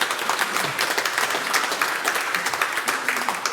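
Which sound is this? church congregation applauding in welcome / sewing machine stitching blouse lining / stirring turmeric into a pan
church congregation applauding in welcome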